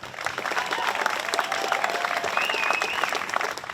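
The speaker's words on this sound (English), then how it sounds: "How about a big round of applause for the #1 team in the world?" A crowd applauds the #1 team at a City Hall event, with steady, dense clapping and a few whistles and cheers over it, filling the room for several seconds.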